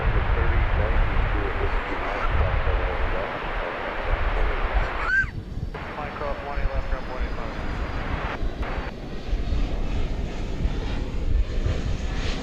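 A jet airliner roars past on the runway at DFW Airport, a loud, broad engine rumble that stays strong throughout, with people talking over it and brief bursts of other noise.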